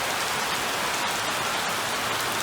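Heavy rain pours down in Jamaica as a loud, constant, dense hiss of drops hitting surfaces, close and even throughout, with no voices heard.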